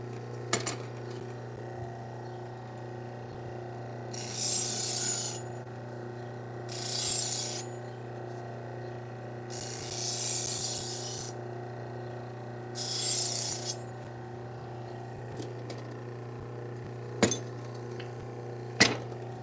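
Knives from a butcher block are drawn through a powered sharpening machine. Four separate hissing grinding passes rise over a steady low motor hum, followed by a few sharp clicks near the end.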